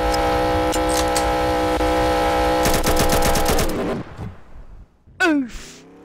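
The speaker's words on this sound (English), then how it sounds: "I'm just gonna shoot the road." Rapid bursts of gunfire from a gun in a Roblox game crackle loud and close for several seconds, then break off into quieter scattered sounds and a short vocal exclamation.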